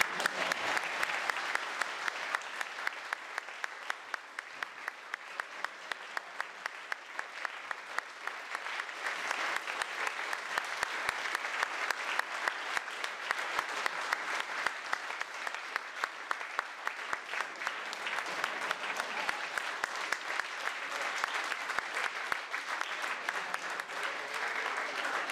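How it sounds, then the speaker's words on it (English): A theatre audience claps continuously for a juggling act, dense steady applause with rapid individual claps that holds for about twenty-five seconds and slowly swells, no voices over it. "Spinning longer than you guys can keep clapping."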